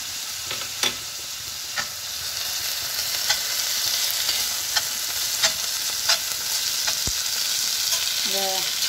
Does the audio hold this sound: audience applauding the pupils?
no